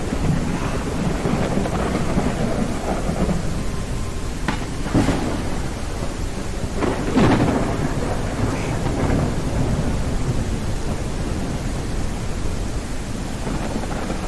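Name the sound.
thunderstorm with rain in the video game Kayak VR: Mirage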